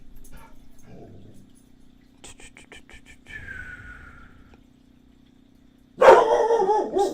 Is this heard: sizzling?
no